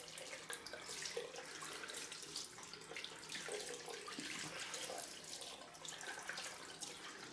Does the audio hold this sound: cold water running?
yes